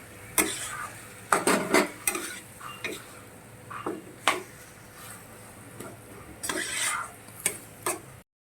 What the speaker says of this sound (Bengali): তো আমি এবার মাংসটা এবার চেক করে নেব, নাড়াটা করছি